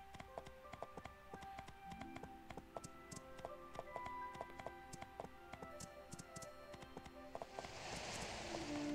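Horse hooves clip-clopping during a ride in the game My Time at Portia, a quiet steady rhythm of light clicks over soft background game music, no talk.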